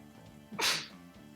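A single sharp sneeze from someone during a tabletop role-playing game session, bursting out loud and close for about a third of a second amid quiet room tone.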